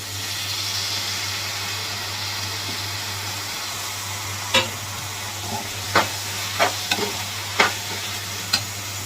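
Tomatoes frying in oil for chana curry, a steady close sizzle and hiss with several sharp scrapes and taps of a spoon stirring in the pan, under a constant low hum.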